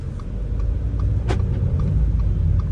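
A 2013 Audi A4 2.0 TDI pulls away from rest, its diesel rumble steady and low inside the cabin, with a brief click partway through and no voices.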